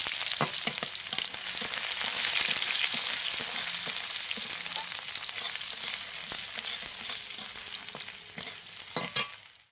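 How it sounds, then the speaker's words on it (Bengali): Onions sizzle steadily in a hot pan for several seconds, with occasional scraping and stirring clatter near the end. "পেঁয়াজটা ভাজা হয়ে গেছে"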